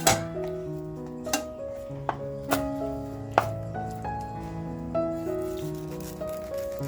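A knife cuts cleaned Bombay duck (bombil) fish on a board, giving a series of soft, close thunks and chops spaced irregularly, heard over light background music.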